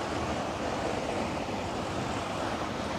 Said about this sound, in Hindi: पूरा बारिश और पूरा हवा चल रहा है